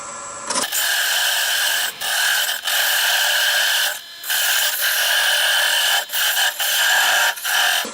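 A lathe tool parts off wood while a scratch awl is turned, giving a steady high rasping scrape broken by several short pauses, close and alone without any voices.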